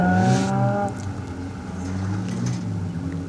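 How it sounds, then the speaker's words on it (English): A Mazda RX-7 race car runs up a hillclimb track, its engine note climbing in a rising rev at first and then settling into a steady, moderately distant drone. "Glenn Lattis Mazda is on the track."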